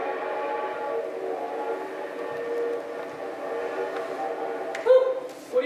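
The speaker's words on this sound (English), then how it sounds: "if you hold your breath, you can hear the train all the way to Pontypridd" A train rumbles as a sound effect in a stage production of Our Town, its steady, mid-distance rolling drone rising near the end into a brief whistle blast.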